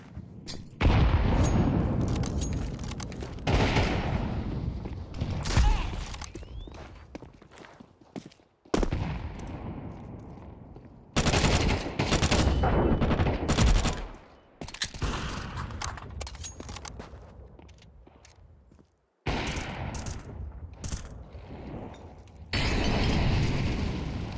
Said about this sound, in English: Throwing fire. Grenade out.